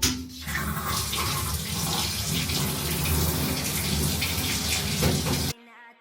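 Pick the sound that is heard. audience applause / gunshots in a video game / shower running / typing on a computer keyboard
shower running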